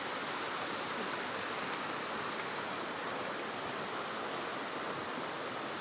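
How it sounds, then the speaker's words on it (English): Two streams meet at Waters Meet in Ricketts Glen, giving a steady, broadband rush of flowing water nearby, constant and unbroken with no voices. "This is where the two streams come together."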